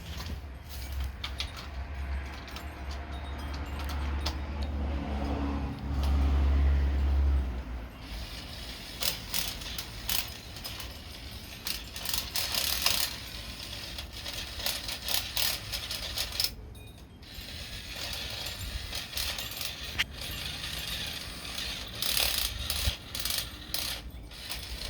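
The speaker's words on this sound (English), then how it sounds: "enjoy this short clip of Alex working on the rear brake drum." Mechanic working on the rear brake drum of a Toyota FJ60, with repeated metallic clinks, ratcheting and scraping in irregular bursts, close and fairly loud over a steady low hum, no talking.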